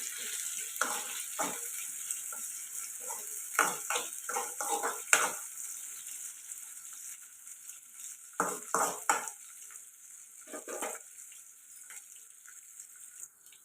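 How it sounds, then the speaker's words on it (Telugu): Curry leaves and potatoes sizzle in a pan while being stirred, a steady frying hiss under repeated bursts of spoon scraping and clattering against the metal, close and fairly quiet. "ఇప్పుడు ఇందులో కరివేపాకు వేసుకున్నాం ఇప్పుడు కలుపుకుంటూ ఫ్రై చేసుకున్నాం"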